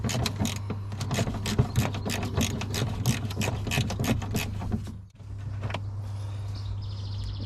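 Rapid ratchet clicks undoing a bolt on the front bumper of a BMW E60, steady close clicking for about five seconds, a short pause, then more clicks.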